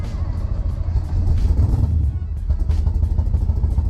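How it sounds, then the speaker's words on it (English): A car engine idles loud and close with exhaust running rough on six cylinders, a lumpy low rumble with uneven throbbing pulses throughout. "Running on 6 cylinders right now, so we're gonna have to look at that before we put it away. You can hear how the exhaust is."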